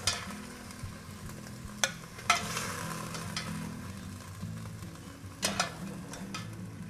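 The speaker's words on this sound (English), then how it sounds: "so that we can saute the onions" Onions sauté in a pan, a soft continuous sizzle with occasional sharp clicks and scrapes from stirring utensils, close by and fairly quiet.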